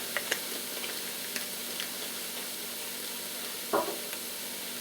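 Garlic and vegetables sizzling in a gumbo pot, a soft steady crackle with occasional sharp pops and a brief stirring clatter near the end.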